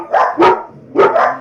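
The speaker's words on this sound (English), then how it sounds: "Please excuse my dogs." Several pet dogs bark in a house, two quick pairs of loud close barks with a short pause between them.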